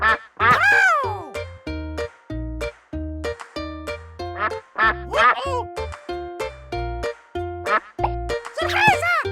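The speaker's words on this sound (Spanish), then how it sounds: "¡Pato! ¡Pato!" A duck quacking repeatedly in short rhythmic bursts over bouncy music in an animated children's animal scene, with a brief exclaiming voice at the start.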